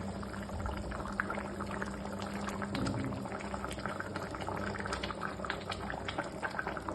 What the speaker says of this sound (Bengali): দেখছেন ঝোলটা ফুটছে